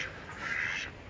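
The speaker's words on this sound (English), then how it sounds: "got some chickens over there, some ducks over there, got them all." A single nasal quack from a domesticated duck, close and fairly loud, lasting about a second.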